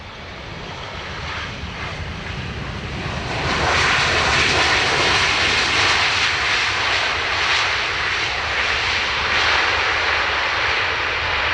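Aircraft engines at Dublin Airport give a loud, continuous roar that swells and holds steady partway through, filling the air with broad, sustained rumble.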